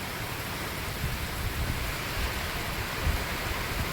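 Steady rain falls in a village in the evening, a dense, even hiss of drops on surfaces that continues unbroken throughout.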